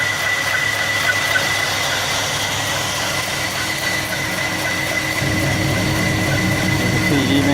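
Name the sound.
Chevy 454 big block 7.4L engine idling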